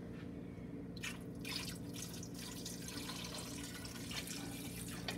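Tap water runs steadily into a cooking pot for backbone stew, a continuous close rush with faint dripping and splashing throughout, no talking.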